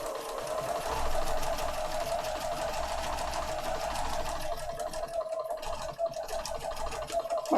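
Husqvarna sewing machine stitching paper pages for a holiday junk journal, a steady close whirring run of rapid needle strokes that holds evenly throughout, with no talking.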